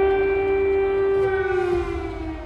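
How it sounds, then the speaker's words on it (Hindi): A loud civil defense air-raid siren in Ukraine during the Russian attack wails as a steady, sustained tone that holds its pitch and then begins to fade slightly, heard alone. "जब जब सायरन की आवाज आती है, यूक्रेन के लोगों के दिल की धड़कन बढ़ जाती है।"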